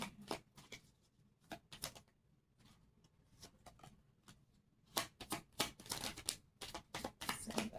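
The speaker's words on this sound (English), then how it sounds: "Shuffle." A deck of cards shuffled during a tarot-style reading: several quick bursts of riffling and flicking card noise, crisp and close, separated by short pauses and growing busier toward the end.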